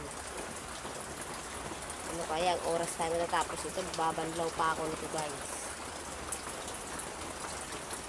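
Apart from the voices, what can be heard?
rain falling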